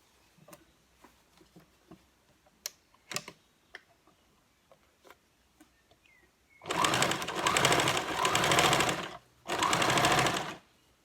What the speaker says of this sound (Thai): เรามาเย็บกันเลยนะคะ